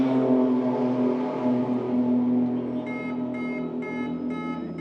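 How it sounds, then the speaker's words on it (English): A pit lane warning siren beeps steadily in regular bursts over a loud, continuous race car engine drone at a Porsche Carrera Cup Asia race in Zhuzhou. "is indeed the pit lane siren to let everyone in the pit lane know that there are still"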